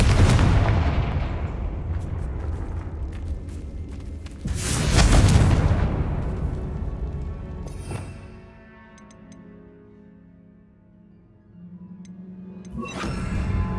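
Confringo blasting-spell explosions in the Hogwarts Legacy video game, heavy rumbling booms that swell and decay, with a quieter lull before another sharp blast near the end; no talking.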